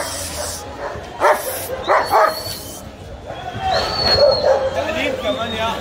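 Dogs at an outdoor weekend market bark and yip in short loud bursts, close by, with whines between, while people talk and a crowd murmurs in the background.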